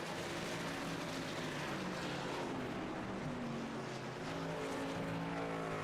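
Racing truck engines in a NASCAR truck series video game at Canadian Tire Motorsport, a continuous loud roar with shifting pitch as engines rev and pass, heard without talk.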